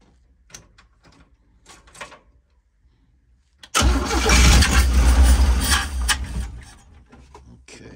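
A 1965 Honda Dream motorcycle engine with a weak battery, being helped along, catches and runs loudly for a few seconds after some faint clicks and handling noises, then fades back down.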